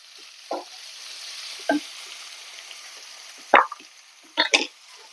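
Sliced onion sautés in coconut oil in a pan under a steady soft sizzle, with four scattered scrapes and clatters of a spoon stirring, the last two louder and closer together.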